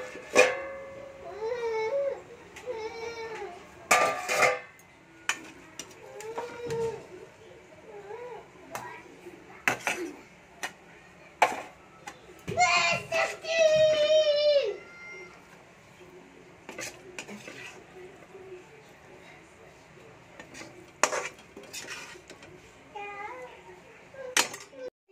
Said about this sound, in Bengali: তরকারিটাকে বের করে নেব বাটিতে।